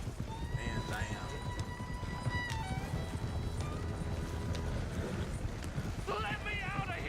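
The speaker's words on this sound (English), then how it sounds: "Come on, horsey." Horse hooves clip-clop steadily and a horse whinnies in a video game set in Saint Denis, with game characters talking over the hoofbeats and ambient town sounds.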